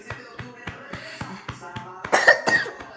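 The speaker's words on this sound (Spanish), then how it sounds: "ya está tosiendo" A child coughs repeatedly while eating, a series of short, close coughs spaced about every third of a second, ending in a couple of louder, harsher bursts.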